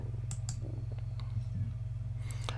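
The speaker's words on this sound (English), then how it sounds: "I'm just going to click Merge now." Quiet computer mouse clicks sound in a few sharp, separate taps over a low electrical hum at a desk.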